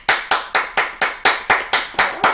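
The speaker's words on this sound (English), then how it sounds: "Clap hands." A single person claps hands nine times in a steady, even rhythm at close range while decorating a cake, with no talking over the sharp claps.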